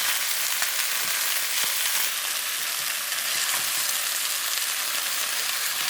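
Chicken wings fry in a pan for a Chinese BBQ wing dish, giving a steady, close, continuous sizzle and crackle with faint occasional pops and no talking.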